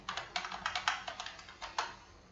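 Rapid bursts of keystrokes on a computer keyboard as someone types C code for an 8051 microcontroller, about a dozen clicky presses in an uneven rhythm, close and fairly quiet, with no voices.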